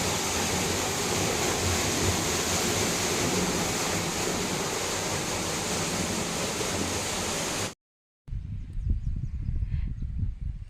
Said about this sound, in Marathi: आम्ही दुसऱ्या विहिरीतून पाणी आणतो ते ह्या विहिरीत सोडतो